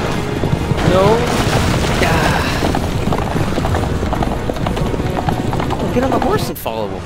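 Horse hooves clip-clopping in the game Assassin's Creed Revelations during a carriage chase, a steady galloping patter under loud game booms and rumbling, with a player talking over it.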